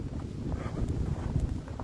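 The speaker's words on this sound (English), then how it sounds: "It's very windy." Gusty wind buffeting the microphone on a snowy Philadelphia street, a steady low rumble with brief faint rustles, close and moderately loud, no voices.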